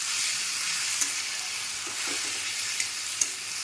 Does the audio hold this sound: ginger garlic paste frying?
yes